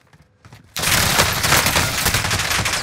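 Sustained rapid gunfire from a Call of Duty: Warzone match bursts in loudly after a quiet moment, continuous automatic shots and impacts filling the rest of the clip.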